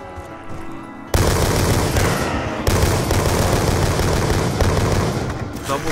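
Bursts of rapid automatic gunfire erupt in Call of Duty Black Ops 2 Zombies on the Buried map, loud and dense, starting abruptly after a quieter stretch and renewing partway through, with a faint voice beneath.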